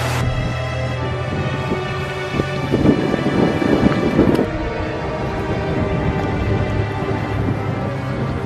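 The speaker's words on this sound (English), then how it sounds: "The wind is only, 30 kilometers an hour instead of 80?" Steady wind noise buffets the microphone outdoors in open country, a continuous loud roar with a gustier burst around the middle, with no voices.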